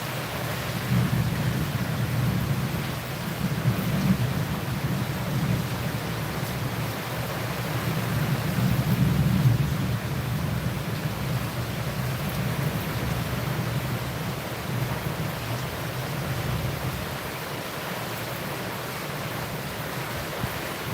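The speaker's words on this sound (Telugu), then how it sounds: "ఇప్పుడైతే మరీ ఎక్కువ వర్షం అన్నమాట చాలా వర్షం పడుతుంది" Steady, dense downpour of heavy rain with a deep rumbling undertone, continuous and loud throughout with no voices.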